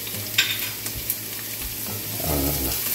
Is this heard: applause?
no